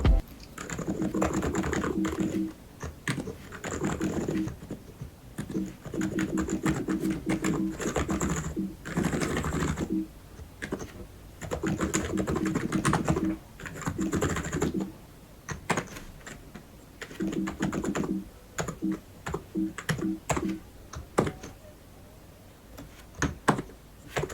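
Keys pressed on a contactless entry-level keyboard to cycle through white LED modes, bursts of soft, quick clicking and tapping in clusters separated by short pauses, close and fairly quiet.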